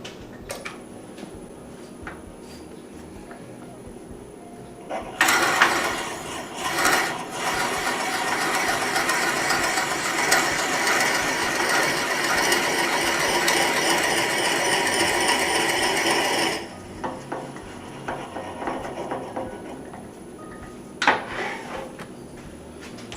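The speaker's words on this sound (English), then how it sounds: "drill about 1 inch into it with it was a 7/16 inch drill bit" A loud, steady drilling roar into wood on a lathe, boring about an inch deep with a 7/16 inch bit, runs for about eleven seconds, framed by quieter workshop handling noises before and after.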